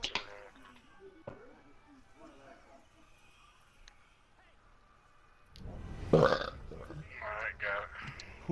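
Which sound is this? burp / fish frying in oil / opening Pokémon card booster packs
burp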